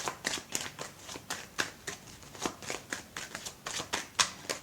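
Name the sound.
shuffling cards for a card reading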